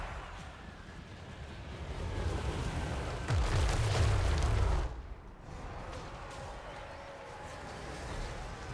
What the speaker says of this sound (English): And here comes the Mega Mortar.